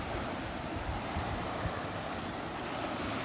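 Sea waves wash over a white-sand beach, a steady close broadband surf roar mixed with gusting wind noise, with no voices.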